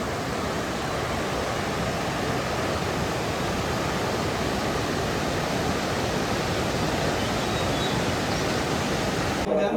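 Two rivers meet and flow together at Dumail near Naranag, a loud, steady rushing roar of water that fills the whole stretch without pause or talk.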